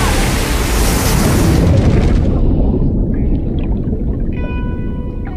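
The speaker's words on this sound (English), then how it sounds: "when you hear a wave coming at you, it's like a giant bomb going off." A huge ocean wave crashes close by as surf is filmed, a deep, booming roar of broadband noise that swells and then slowly fades into a hiss, with a faint tone near the end.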